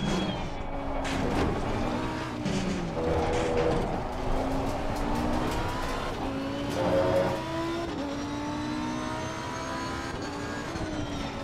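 A GT race car in the sim racing game Assetto Corsa Competizione drones at steady high revs, its engine note rising and dropping through gear shifts over a continuous, loud run with no talk.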